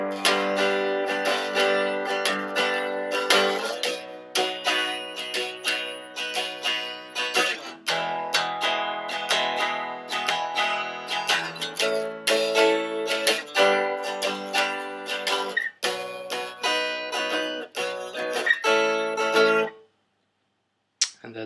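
Electric guitar plays the chorus of a song with full, ringing chords, a dense and steady strummed texture that cuts off abruptly near the end, leaving a short silence.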